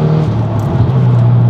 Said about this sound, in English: I'm gonna need to go up a gear there because this car is just so loud.